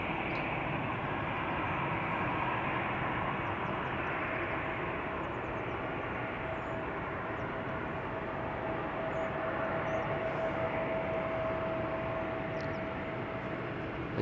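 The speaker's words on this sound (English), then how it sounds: "Embraer 190 off to Aberdeen, KLM Flight 913." A KLM Embraer 190 bound for Aberdeen departs from the Polderbaan runway at Amsterdam Schiphol, giving a steady, moderately distant jet rumble with a faint whine, with no voices over it.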